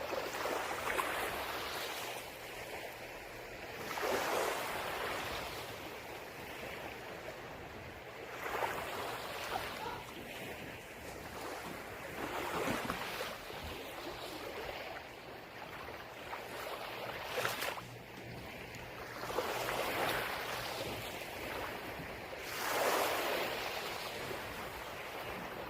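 Ocean waves wash onto a Hawaii shore in slow, recurring surges, each swell rising and receding over several seconds in a steady, moderately distant roar with no voices.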